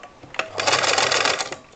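A sewing machine stitches a homemade fabric face mask, running in a steady rapid burst of needle strokes for about a second, near and clear, then stopping.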